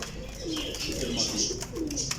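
Young pigeons coo softly at close range, a few low murmuring calls against a quiet background with faint higher chirps.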